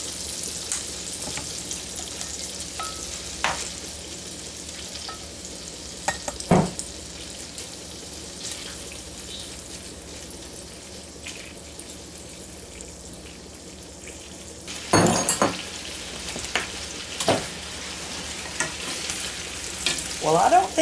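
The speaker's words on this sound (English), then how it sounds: "we just add our sausage to the butter until the sausage gets a little brown" Italian sausage browns in melted butter with a quiet continuous sizzle, punctuated by scattered clicks and bursts of stirring, louder toward the end, no talk.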